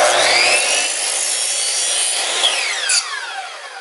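A carbide-tipped saw blade shaves a thin slice off a wooden block in a shop, giving a loud, close, continuous rasping cut that tails off and ends with a brief sharp scrape.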